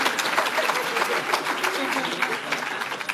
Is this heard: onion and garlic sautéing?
no